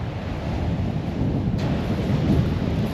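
Heavy rain on Chesil Beach during a storm, a loud, dense, continuous roar of rain and wind with deep rumbling underneath and no one speaking.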